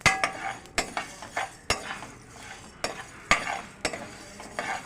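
Poppy seeds roasting dry in a pan for chicken pickle, stirred with a utensil that scrapes and clinks against the metal in irregular strokes under a faint sizzle, close and fairly quiet.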